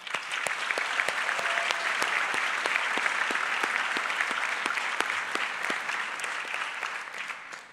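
Audience applause at a high school graduation ceremony, a steady dense patter of many hands clapping in a large room, sustained for several seconds before tapering slightly at the end.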